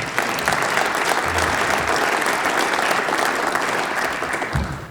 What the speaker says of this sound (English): Can give this man a round of applause